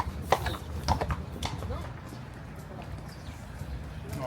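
Hooves of a horse clip-clop in a few sharp, close strikes early on, then fade into softer ambient noise, with people talking in the background in Marrakech.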